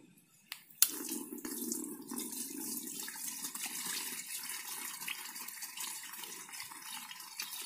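Liquid micronutrient fertilizer strained through a cloth into a 1-litre plastic bottle, a steady continuous pouring and trickling stream running for several seconds after a brief knock, close and moderately loud with no talking.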